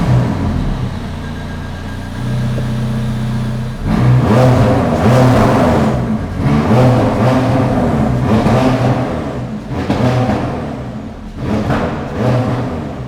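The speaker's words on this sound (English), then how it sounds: "this car probably makes a good sound" McLaren 620R engine revving hard, loud and close, with a steady idle drone that swells into several rising and falling revs in bursts, and no talking over it.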